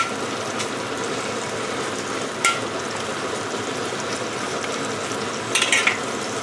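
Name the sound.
stir frying char kway teow with lapchong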